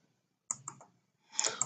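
Mouse clicks on a computer while logging in and out of a web application, a quick cluster of three soft clicks followed by a louder burst of clicking after a pause, close and with no talk.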